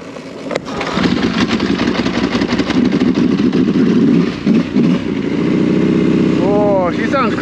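A motorcycle engine being started on a backcountry ride, cranking then catching into a loud, rough idle that grumbles steadily close by, with a faint rising whine near the end.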